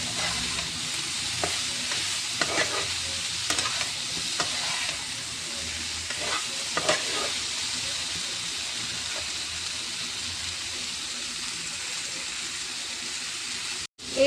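Spiced watermelon rind curry being mixed in a hot pan, a continuous close sizzle with a few soft scraping strokes early on, no voices, ending with a brief bump.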